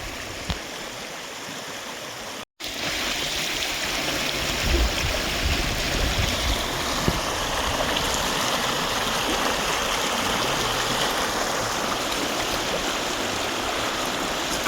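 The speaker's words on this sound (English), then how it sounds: "My little creek is freezing over." Continuous rushing and gurgling of a small, partly frozen creek in the snowy Appalachian foothills in sub-zero cold, steady and fairly loud, broken by one brief dropout early on; no voices.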